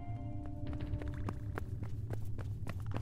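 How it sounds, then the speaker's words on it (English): Quick footsteps run at a steady, rapid pace over a low constant hum, moderately distant and unaccompanied by speech, as a sound effect in a Donkey Kong Country themed story. "You hear footsteps running in the distance"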